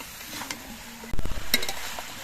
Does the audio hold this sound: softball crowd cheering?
no